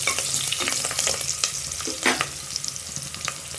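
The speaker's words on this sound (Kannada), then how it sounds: "ಅರಿಶಿನ ಹಾಕ್ಕೊಂಡು ಫ್ರೈ ಮಾಡ್ಕೊಳ್ತೀನಿ." Chopped onions and turmeric frying in a pan for poori sagu, a steady close sizzle broken by irregular scrapes and clinks of a spoon stirring, with no voices.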